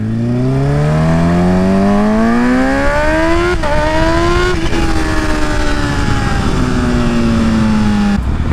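A Kawasaki Ninja H2 supercharged motorcycle accelerates hard through the gears, its engine whine climbing steeply, with brief dips at each shift before a sustained high-speed drone, loud and close throughout.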